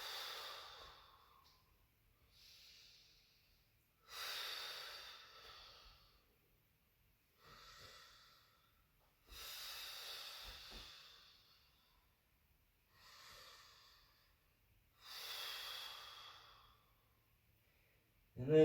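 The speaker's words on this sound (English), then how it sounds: "We're going to take 5 rounds of breath." Slow, steady breathing held in a yoga down dog pose, with several long audible exhales and softer inhales spaced evenly a few seconds apart, close and quiet with no talking.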